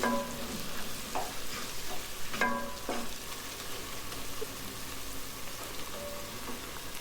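Mint and coriander leaves sauté in ghee during mushroom dum biryani preparation, a steady close sizzle with a few louder scraping stirs of a spatula near the start, with no talking.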